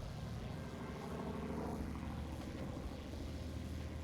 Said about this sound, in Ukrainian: Ну, двигуни доволі потужні,